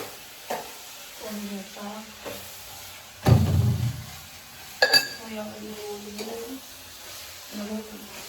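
Soya chunks being tempered in a hot pan, with a steady soft sizzle running throughout and stirring clinks and scrapes, including one louder burst partway through.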